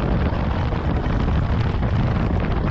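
Loud, steady wind roar buffeting the microphone while riding a 2024 Yamaha Ténéré 700 motorcycle at about 110 km/h, a dense low rumble with no pauses.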